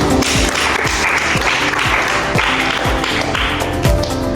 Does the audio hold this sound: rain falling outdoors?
no